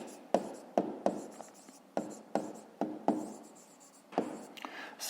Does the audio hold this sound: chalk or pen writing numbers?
yes